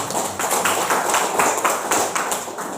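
A classroom audience at a shot put lesson claps for a student, a steady, fairly loud burst of applause that holds for a few seconds and then tails off slightly.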